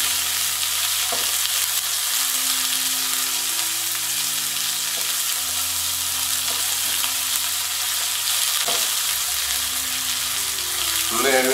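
Chopped onion and green chilli fry in a pan for a radish and spinach stir fry, a steady close sizzle throughout with a few soft stirring scrapes and a brief clatter near the end.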